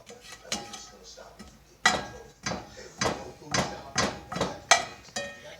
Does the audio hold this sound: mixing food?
yes